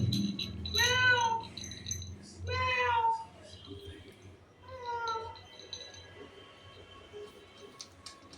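A cat gives three drawn-out, close meows spaced a second or two apart, with faint household background noise between the calls.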